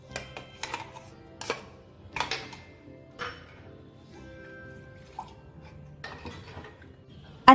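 Ingredients for Konkani kadgi (jackfruit) randai being mixed in a pot, a series of close, sharp clinks and scrapes of a utensil against metal, irregular and separated by quiet gaps, with no talking.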